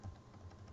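A couple of soft, quick keystrokes on a computer keyboard, faint and brief against a low background hum, no voices.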